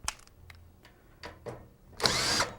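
A power screwdriver backs cover screws out of a SeQual oxygen concentrator in short whirring bursts with faint clicks between, ending in a louder sustained whine, close and fairly quiet.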